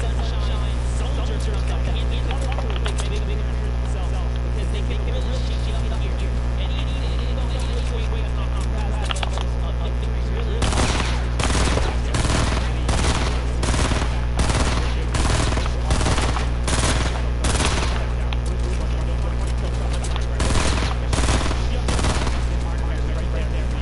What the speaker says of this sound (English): So I still shoot 3 bullets with 1 bullet